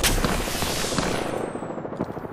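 Dense, continuous gunfire in the video game Apex Legends, with rapid overlapping shots and bursts crackling throughout, loud and busy from start to finish, no voices.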